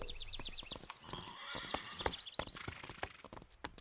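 A cartoon horse named Pepper neighs and whinnies in short agitated bursts at night, loud and close, with some hoof clatter mixed in.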